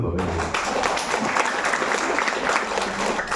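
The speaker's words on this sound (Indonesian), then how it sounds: "Tepuk tangan dulu Bapak Ibu." Audience at a Bocorocco brand story talk in Indonesia applauds, a steady wash of clapping filling the room for a few seconds, with a voice speaking over it near the start.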